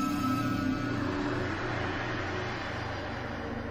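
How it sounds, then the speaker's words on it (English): A dense, roaring rumble opens Call of Duty: World at War as the game launches, broad and loud like a vehicle engine or heavy wind, holding steady and easing slightly toward the end. "that's the sound of one of the best Call of Duty games ever being launched"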